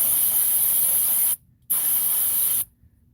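QD electrical contact cleaner sprayed onto sensor contacts in two steady, loud hissing bursts, each over a second long, separated by a short silent pause, close to the can with no voices.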